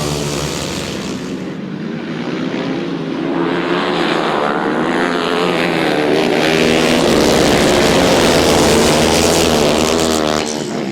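350cc solo grasstrack motorcycles at a British best pairs championship meeting roar loudly together as they rev and race away from the start, a dense, rising engine howl close by that stays strong throughout.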